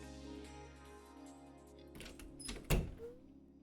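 The front door opening in the video game Dot's Home: a faint mechanical rattle over a low hum, then a soft thunk and brief clatter as the door moves.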